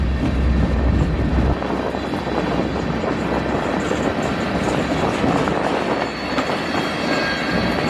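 CN freight train 399 rolls westbound through Battle Creek, Michigan, a loud, steady roar of wheels and cars passing close by, with a heavy low rumble easing slightly after the first couple of seconds.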